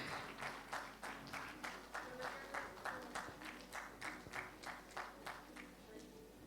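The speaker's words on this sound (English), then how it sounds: "once again, a very big round of applause" Awards-ceremony crowd applauding, the claps falling into a fairly regular, pulsing rhythm at moderate distance and holding steady for several seconds.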